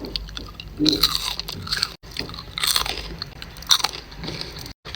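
Crispy french fries crunch under several sharp bites, each crackling burst followed by brief chewing, close to the mic in a quiet room.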